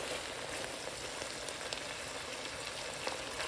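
Smorgasbord soup simmering in a pot, a steady, dense crackling bubble with a sizzling, frying-like texture, close and even throughout without any talking.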